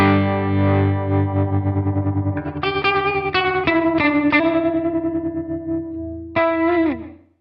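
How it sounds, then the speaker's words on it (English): Electric guitar played through an HX One effects pedal set to a ramping tremolo: distorted, sustained chords and notes pulse in volume, with the wobble changing speed over several bars. A final chord rings out and fades. "Let's do ramping tremolo."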